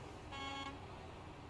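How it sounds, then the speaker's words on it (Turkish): A standard truck horn in Euro Truck Simulator 2 gives one short honk of about a third of a second over a steady, loud engine and road rumble. "Normal korna."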